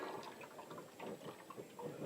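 Tap water runs steadily over a sponge under a faucet as it is squeezed and soaked, a close, continuous splashing and gurgling with soft squelching pulses.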